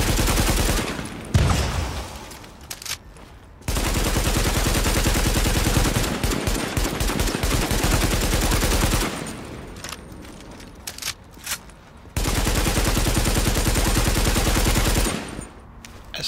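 Long, loud bursts of sustained automatic gunfire on city streets in The Division, with sustained volleys broken by short gaps and scattered single shots in between, close and dominant, with no talking.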